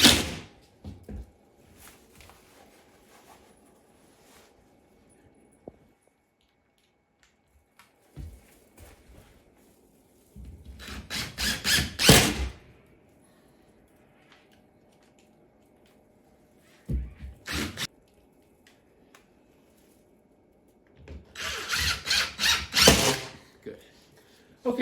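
Power driver sets screws into a wooden furring strip on a ceiling while a hole is patched, giving two sustained, rising whirring bursts with shorter clicks and a brief pulse between them, fairly close with quiet gaps.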